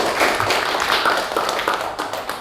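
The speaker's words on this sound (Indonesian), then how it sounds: "beri tepuk tangan dulu" Students in a classroom give a round of applause, a dense patter of many hands clapping close by and fairly loud, tapering slightly toward the end without speech over it.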